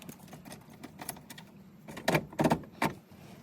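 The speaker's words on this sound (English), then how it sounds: "Just let me put the gear shifter down." A car's gear shifter is moved down during a first-time odometer replacement, giving a few sharp, close clunks and rattles, loudest near the end, over quiet background.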